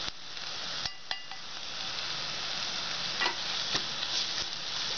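Garam masala and turmeric powder fry in a pan of oil for a spicy potato egg curry, giving a soft, steady sizzle broken by a few sharp scrapes and clicks as the spices are stirred.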